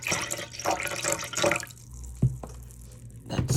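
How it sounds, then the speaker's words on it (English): Vinegar poured into a skunk cabbage lake pigment mixture, a soft splashing trickle of liquid for about a second and a half, then a few isolated drips and small clinks close by in a quiet room. "here goes the vinegar"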